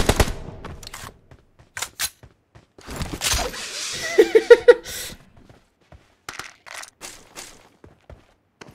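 A Tommy gun fires in PUBG Mobile in scattered short bursts of sharp, close shots, separated by quiet gaps, with a louder cluster of rapid fire in the middle and faint movement noise between bursts.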